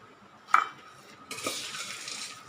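Bhel mixture with chavanu and tamarind chutney being stirred in a metal dish, with a sharp clink of a spoon against the dish followed by soft scraping and rustling of the dry mix, close and fairly quiet.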